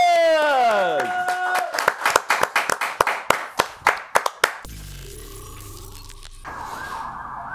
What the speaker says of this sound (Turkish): Kocaman bir alkış!